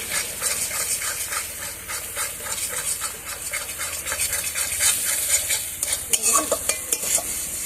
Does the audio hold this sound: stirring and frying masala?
yes